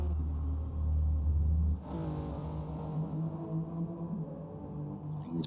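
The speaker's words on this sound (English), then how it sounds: "Big vibrations as you hear the engine noises" A GT3 race car engine in Gran Turismo Sport at Circuit de la Sarthe drones steadily with low rumbling vibration, shifting pitch partway through as it keeps running continuously.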